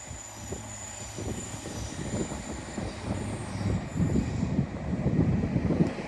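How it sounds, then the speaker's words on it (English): A TransPennine Express train pulls out of York station, its rumbling wheels and low engine drone building steadily and growing louder over several seconds, with faint high whine above. "Departing now is your 1259 Transpennine Express service bound for Manchester Piccadilly"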